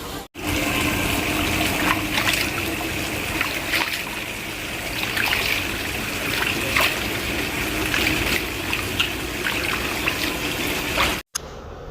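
Water draining off freshly washed wheat grain through a sieve, a continuous close trickle with small splashes and drips that holds steady, briefly cut off near the start and the end.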